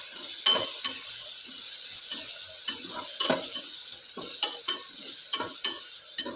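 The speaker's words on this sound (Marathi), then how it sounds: "धनेपूड घालून परत एकदा चांगलं परतून घेऊया।" Onion and tomato sauté in a pan with coriander powder for dal khichdi, giving a continuous close sizzle broken by repeated scraping and stirring strokes, with no voices.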